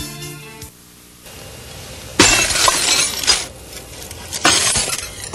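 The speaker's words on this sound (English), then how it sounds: "Applying pressure caused the glass to shatter" Glass shatters under applied pressure from a press, a sudden bright crash followed by scattered tinkling fragments and a second burst of breakage, loud and close with no voices.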